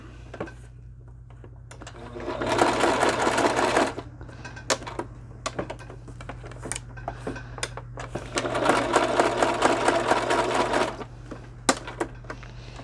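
Two bursts of a sewing machine stitching, a rapid mechanical whirring run, with quiet clicks and handling noises between them.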